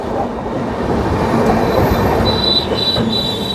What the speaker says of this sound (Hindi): लेकिन ये तो अवध एक्सप्रेस है